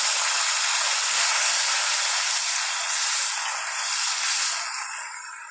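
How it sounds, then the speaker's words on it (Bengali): Water poured into a pan of frying onion, garlic and green chilies sends up a loud, continuous steamy hiss with no talking. "পেঁয়াজ রসুন এবং কাঁচামরিচ ভাজা হয়ে গেলে এখানে আমি সামান্য পানি অ্যাড করে দেব"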